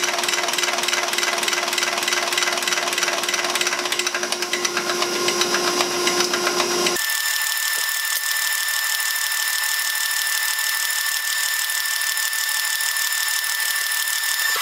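A Stanadyne diesel injection pump for an International wheel loader cranks on a test stand, a loud continuous mechanical whir and rapid ticking that shifts to a higher, steadier whine halfway through.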